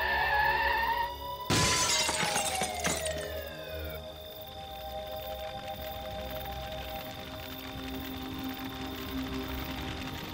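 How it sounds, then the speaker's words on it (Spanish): Glass breaking as a sound effect, a sudden loud shatter with scattering shards and crackling debris, then a long ringing, fading tail with low hum. "Lo último que escuchó fue el sonido de unos cristales rotos."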